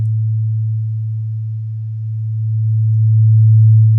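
A low, pure sine tone holds steady while its volume slowly dips and then swells louder.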